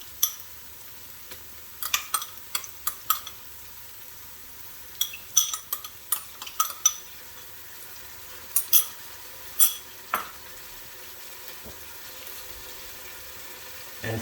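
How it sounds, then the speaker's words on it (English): Ground ginger garlic paste fries in a pan under a faint sizzle while a spoon scrapes and clinks against the pan in irregular bursts of stirring, close, with no talking. "And I'll just mix that and let it fry for a minute."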